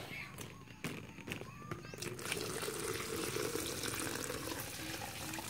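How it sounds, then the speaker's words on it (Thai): Collected natural rainwater is poured out for mixing mushroom culture. Quiet handling sounds come first, then a steady splashing pour starts about two seconds in and runs on to the end. "นี่ก็จะเป็น น้ำที่รองไว้นะครับจากธรรมชาตินั่นเองนะครับก็ผสมได้เลย"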